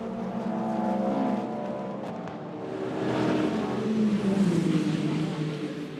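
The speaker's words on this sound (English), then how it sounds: "Let's get down to the pit lane." Pit lane at the 6 Hours of Fuji endurance race, with race car engines droning and swelling at moderate distance under a busy, echoing ambience, rising again toward the end, and a voice faintly present in the mix.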